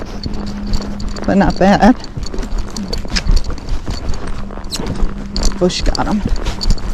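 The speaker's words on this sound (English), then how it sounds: "as you're riding your gaited horse down the trail" Gaited Spotted Saddle Horse moving down a trail, soft hoofbeats clip-clopping in a steady rhythm under a rider's nearby talk.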